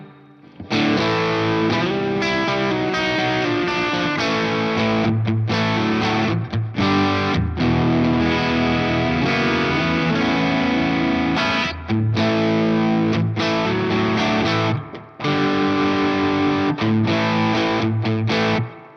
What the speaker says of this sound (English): So I'm just going to put some reverb on here.